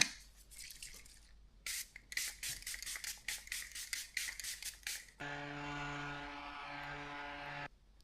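Makeup setting spray mists out in several quick bursts, separated by short pauses, followed by a steadier hiss, all close and fairly quiet.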